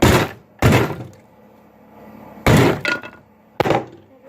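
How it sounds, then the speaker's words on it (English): Hammer striking a vise: four loud, sharp metallic blows in an uneven rhythm, each ringing briefly before fading, with quiet gaps between them. "that's why you use the hammer, Daddy"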